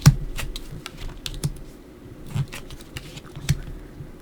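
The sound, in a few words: tarot cards being laid out and turned over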